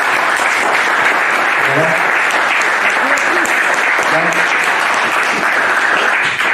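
Steady audience applause at a French diploma ceremony as the school director arrives, continuous clapping filling the room throughout, with someone speaking faintly over it.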